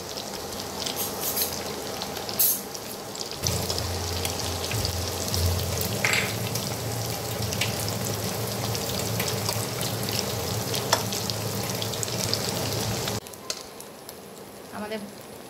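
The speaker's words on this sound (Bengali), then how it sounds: "আমি একটা একটা করে ভেজে নেব।" Semolina-and-potato (suji aloo) snacks fry one at a time in hot oil, giving a steady, close crackling sizzle that swells after a few seconds, holds, then cuts away near the end.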